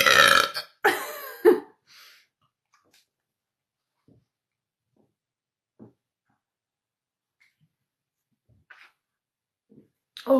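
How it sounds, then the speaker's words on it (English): Loud, close human burps, two or three wet belches packed into the first couple of seconds, followed by near silence with a few faint clicks and small mouth sounds. "It's definitely making me burp."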